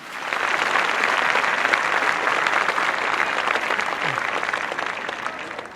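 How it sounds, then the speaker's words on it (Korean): Shop owners at a Korean business awards gathering clap together, a thick, continuous wash of applause that swells quickly and stays loud for several seconds. "크게 박수 한번 치시고 시작하겠습니다."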